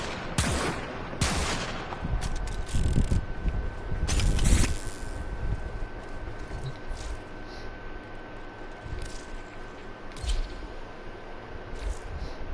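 Repeated gunfire from a multi-shot weapon in the video game Warframe, with loud bursts of shots early on, then sparser, quieter single shots over a steady background hum.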